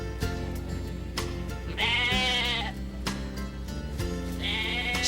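Sheep bleating on a farm, several loud, close, wavering bleats in succession over a steady low hum, with no talking.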